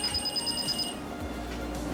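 Gatekeeper 2.5 Bluetooth tracker beeping near a phone: a steady run of short, bright electronic beeps for about a second, then stopping, with faint room noise and no talk.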